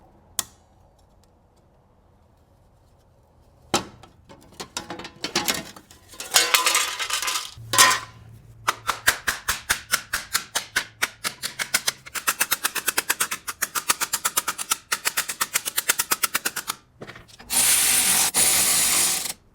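A part is spun out by hand with Knipex needle nose pliers, giving a run of sharp metallic clicks and ratcheting ticks in a quick irregular rhythm, close and fairly loud, with scraping bursts toward the end.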